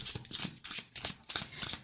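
Tarot cards shuffled by hand in several quick, crisp bursts of riffling and slapping, close and clear, with short pauses between them.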